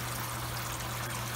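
Water runs steadily out of the seedling trays of a lettuce greenhouse grow system into a drain, a continuous close trickle and splash over a low steady hum.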